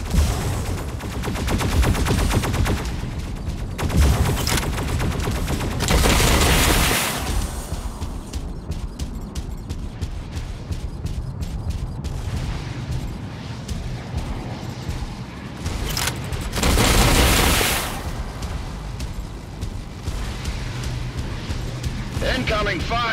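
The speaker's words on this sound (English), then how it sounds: "Incoming fire!" Mech Arena video game combat fills the mix with loud bursts of mech gunfire and explosions, dense and continuous with brief lulls, while voices and game callouts speak over it.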